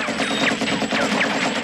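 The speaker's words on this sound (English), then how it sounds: "Shoot up everything." Dense gunfire rattles in a scene from the 1985 action film Rambo II, a rapid run of bursts with no pause, heard at moderate level.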